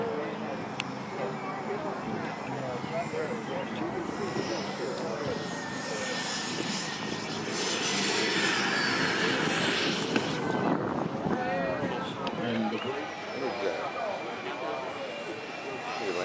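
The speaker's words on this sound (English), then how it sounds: "Right now we're doing what's known as a dirty pass. Flaps down, gear down. And a whole lot of engine." A radio-controlled model jet makes a low dirty pass with flaps and gear down, its turbine whine swelling loud as it passes overhead and then fading, with wind buffeting the microphone.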